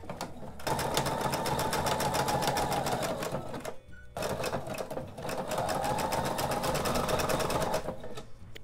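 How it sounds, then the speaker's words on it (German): Sewing machine running a zigzag stitch to attach velcro onto felt, a fast close mechanical rattle in two long runs split by a brief pause. "Ich nähe jetzt einmal links und rechts den Klett an mit einem Zickzackstich"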